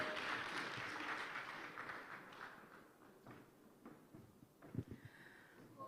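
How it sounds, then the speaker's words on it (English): Faint audience applause at a business pitch day, a soft patter of clapping that thins out midway into scattered claps, taps and a few thuds in a quiet room. "Round of applause for Milk Bank Limited"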